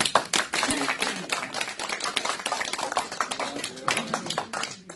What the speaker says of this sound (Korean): 우리 박수 한번 치시고